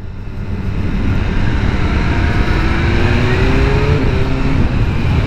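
Steady engine roar from a BMW S1000RR at Daytona Bike Week, a continuous loud drone with a slowly rising pitch as the bike revs, no talk over it.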